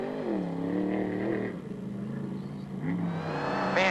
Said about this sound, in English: it's popping and spitting in the mid-range again